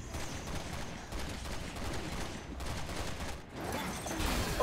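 Rapid gunfire in a video game during a multiplayer match, dense repeated bursts of shots running steadily throughout at moderate loudness with no talk.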